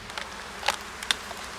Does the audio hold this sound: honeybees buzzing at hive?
yes